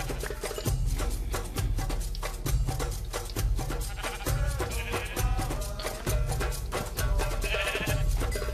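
Sheep in the Minecraft video game bleat repeatedly against a busy, rhythmic backdrop of game music, the calls coming in regular succession and fairly loud.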